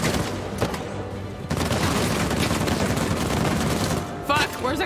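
Gunfire in the video game Uncharted 4 during a firefight in New Devon, a dense, continuous fusillade of shots under faint game voices throughout.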